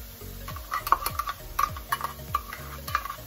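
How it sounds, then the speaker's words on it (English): Onions stirred into already cooked ground turkey in a pan: rhythmic scraping and clinking of a utensil against the pan, close and moderately loud, over a faint sizzle. "now that all my turkey is pretty much, it's already cooked, I'm going to add the onions"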